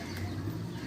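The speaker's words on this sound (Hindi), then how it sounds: "दो कबूतर बैठे हैं इसमें" Pigeons kept by a hobbyist coo in a low, steady murmur close by, a brief continuous sound with no talk.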